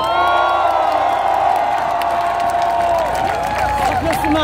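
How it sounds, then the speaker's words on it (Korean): A large outdoor rally crowd at Gwanghwamun Square cheers and claps, with a sustained roar of voices, whoops and shouts over scattered applause. Amplified tones and voices ring through the mix. "100만 군중 여러분 힘찬 박수 한번 보내주십시오"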